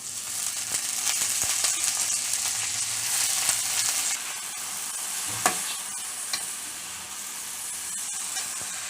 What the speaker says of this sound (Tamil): இப்போ கீரை வதங்கி வந்துக்கிட்டு இருக்கு